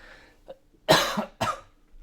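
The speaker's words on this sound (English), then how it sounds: "excuse my cough" Two sharp, close coughs follow a faint murmur, the second slightly weaker than the first, heard alone without speech.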